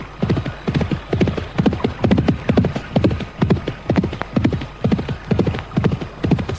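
A horse's hooves clip-clop in a steady, even rhythm as it is ridden at an easy pace along a riverbank, the hoofbeats close and clear with no voices.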